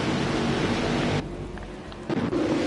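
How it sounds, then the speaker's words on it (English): Steady rain hisses across Willow Springs track in a racing game, a dense, continuous broadband wash that thins briefly midway and then returns at full strength, with no talk over it. "It's a very rainy day."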